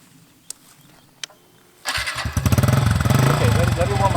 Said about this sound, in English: Tim, go start the bike.